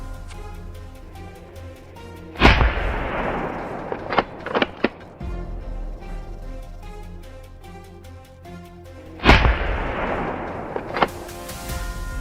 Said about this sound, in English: my friend fired another shot, officially killing a wild boar